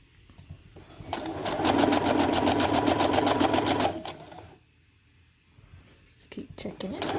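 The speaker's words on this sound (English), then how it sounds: "So just sew the whole length of the tulle." Sewing machine stitching a length of tulle for a scrunchie, a steady rapid whir of needle strokes running loud for a few seconds, then stopping before a soft voice speaks quietly.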